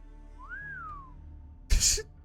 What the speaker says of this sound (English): That whistle from Da Vinci.